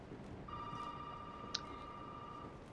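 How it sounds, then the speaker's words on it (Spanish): Telephone ringing in the Resident Evil 7 horror game, a single steady electronic ring tone lasting about two seconds, faint against a quiet background hum. "Me están llamando por el teléfono."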